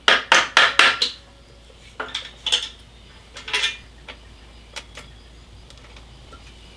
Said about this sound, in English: just tap it with a hammer. It should come free